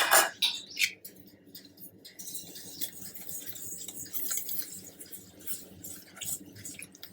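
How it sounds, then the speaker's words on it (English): A bowl of butter, eggs and coconut sugar for ragi and whole wheat brownie batter is stirred, giving wet, irregular clicking and squelching close by, with a louder burst of scraping at the start. "Now we are going to mix it till the time it is without any lumps"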